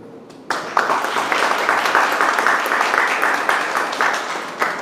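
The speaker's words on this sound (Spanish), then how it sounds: "Un aplauso, por favor" An audience at a game-developer meetup breaks into applause after a brief quiet moment, a sudden burst of clapping that stays dense and fairly loud before easing slightly toward the end.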